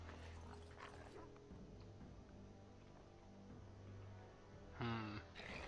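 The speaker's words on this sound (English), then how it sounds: "Which sound like they're filled with dogs." Dogs bark from rooms in the video game Dragon Age: Origins, a few muffled, brief barks heard faintly over a steady ambient game hum.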